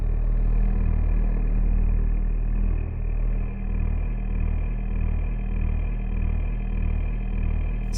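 A granular synthesis device processing material gives a loud, steady low drone that swells and dips in a regular pumping rhythm, with nothing else heard over it.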